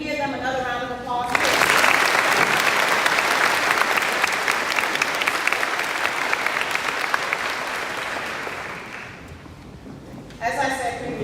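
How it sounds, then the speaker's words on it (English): Loud, sustained applause from an audience at an 8th grade graduation ceremony, many hands clapping together for several seconds before fading, with brief talking at the start and end. "Can we give them another round of applause?"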